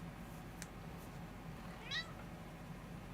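A cat meows once, a short faint mew over quiet background hum, heard alone with no talking.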